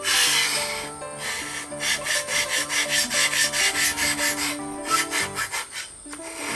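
A dulled machete and sickle being sharpened on a whetstone, giving a steady rhythmic rasping scrape with regular back-and-forth strokes, close and fairly loud.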